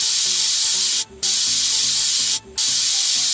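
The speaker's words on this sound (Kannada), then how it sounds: "ಮುಚ್ಚಳ ಮುಚ್ಚಿ 5 ವಿಜಿಲ್ ಕೂಗಿಸ್ಕೊಳ್ಳಿ." A pressure cooker on the stove while mutton kurma cooks, giving a loud continuous whistling hiss of steam that breaks off twice for a moment, alone with no talk.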